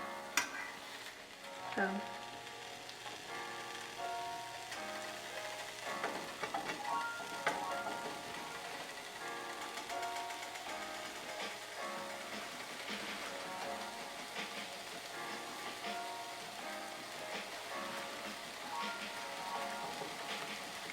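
Ham slices sizzle and crackle steadily in a hot pan just after being flipped, a continuous close frying hiss with a brief voice exclamation near the start.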